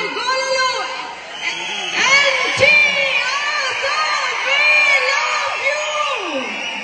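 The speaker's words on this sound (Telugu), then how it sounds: "ఈలలు, గోలలు." A crowd at a live film event in Dallas cheers, whoops and yells over a loud, continuous wall of sound, with sharp whistles piercing through and a voice calling out near the end.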